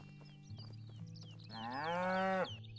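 A cow in Russian Village Simulator lets out one long, loud moo that swells and then cuts off, heard over a steady low farm ambience with faint birdsong.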